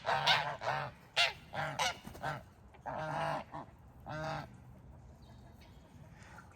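Several geese honk in loud bursts, one after another, followed by quieter chattering calls and a soft background hiss.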